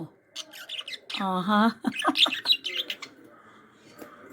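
A small bird squawks and chirps in short bursts, close by, mixed with a person's brief vocal exclamations.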